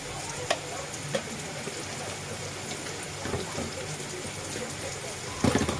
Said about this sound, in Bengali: আর পেঁয়াজটাকে একটু ভেজে নেবো আমি